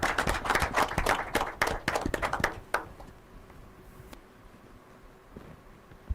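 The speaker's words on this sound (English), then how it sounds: "let's make a rousing applause for the lead speaker from Iwere College" Applause for the lead speaker from Iwere College at an inter-collegiate debate competition, a brisk burst of close, crisp claps for about three seconds that quickly thins to a few stray claps and quiet room tone.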